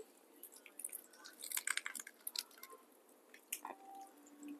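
Someone bites into a crisp fried taco filled with papas con chorizo, giving a few quiet, close crunches and moist chewing sounds in short irregular bursts.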